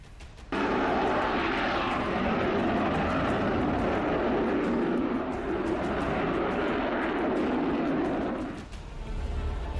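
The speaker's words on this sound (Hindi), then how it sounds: "ऐसे मिशन पर अक्सर यूरोफाइटर टाइफून जेट ही जाते हैं।" A Eurofighter Typhoon fighter jet on air patrol roars overhead, the loud, broad engine rush starting abruptly and holding steady for several seconds before briefly dipping near the end, with no voices.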